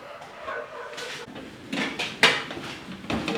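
Enamel containers being handled in a kitchen, several short clanks and scrapes of metal enamelware knocking together at close range, uneven in rhythm.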